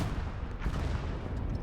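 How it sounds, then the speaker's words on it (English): Artillery shell blasts from the WWII strategy game Gates of Hell: Ostfront rumble in a dense, rolling barrage with a sharper crack near the middle, moderately loud and without voices. "Look at that explosion."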